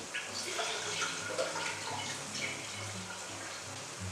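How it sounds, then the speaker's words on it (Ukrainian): Water runs steadily into a pot, a continuous splashing pour with a faint low hum underneath, no voices. "Сіджую воду і знову заливаю чистою водою,"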